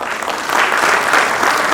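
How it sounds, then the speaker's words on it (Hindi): Steady, dense applause from a theatre audience honouring the cast and crew after a staging of the play Mukhjatra, sustained and fairly loud throughout with no speech over it. "जोरदार तालियां।"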